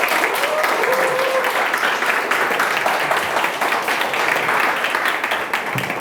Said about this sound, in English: Can everyone please give him a round of applause?